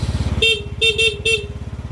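Three short, bright Yamaha Mio Soul scooter horn beeps, the second a quick double honk, sounding over a steady running engine close by.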